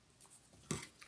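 Scissors make one short, sharp snip while trimming acrylic sheet for a mitered pocket on a box album lid, with faint handling rustle before it.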